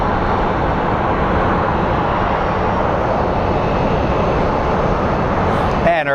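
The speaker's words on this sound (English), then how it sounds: "our flight to Burbank is rolling" An airliner bound for Burbank rolls down the runway for takeoff at Phoenix Sky Harbor International Airport, a loud, steady engine roar heard from nearby that holds throughout.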